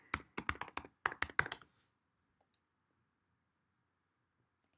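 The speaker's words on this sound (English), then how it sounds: "So just typing in here." Computer keyboard typing: a quick burst of about a dozen sharp, close key taps over a second and a half, then near silence.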